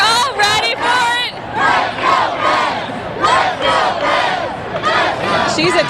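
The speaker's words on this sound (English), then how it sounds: "Here we got the chants going now." A dense crowd at the Pittsburgh Penguins Stanley Cup victory parade chants and shouts in unison, loud and close, with rhythmic bursts of many voices filling the air continuously.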